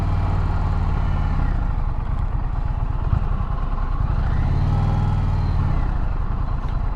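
A car driving slowly through downtown Lawrence, Kansas, with a steady low engine and road rumble heard from inside the cabin. The drone stays constant throughout, with no talking.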